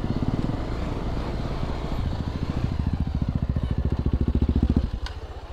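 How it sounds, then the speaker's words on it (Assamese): A motorcycle exhaust burbles in a steady pulsing rhythm, nearby, the throb quickening and swelling before dropping off near the end. "বিকেৰ এক্সজষ্টৰ চাউণ্ড শুনো"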